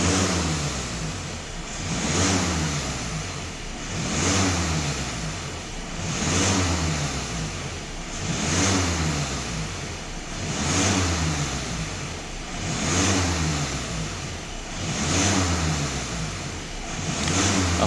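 A Skoda Superb engine held at high revs, around 3000 rpm, its pitch swelling and easing in slow regular waves about every two seconds, loud and steady throughout.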